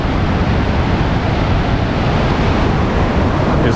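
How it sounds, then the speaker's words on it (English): Fast-flowing rapids on the Spokane River coming through town, a dense, loud, continuous roar of rushing water heard up close, with wind buffeting the microphone. "Wow, this water is moving very fast."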